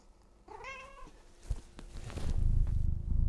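A pet cat meows once, a clear rising and falling call, then a low, rumbling purr builds and grows louder close by. Faint handling noises are mixed in and no one speaks.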